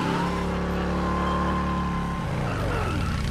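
Motorcycle or vehicle exhaust revving loudly in a gangster action film chase scene, a steady droning engine roar that shifts pitch and fades slightly toward the end.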